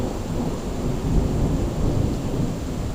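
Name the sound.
thunder during a rainstorm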